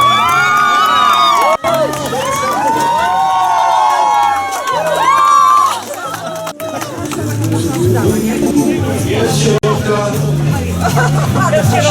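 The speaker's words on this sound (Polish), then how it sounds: "Gorące brawa." Crowd cheering and shouting at the finish of a women's running race, loud and close, with high excited voices, whistles and a few sharp bangs, under a continuous roar of chatter.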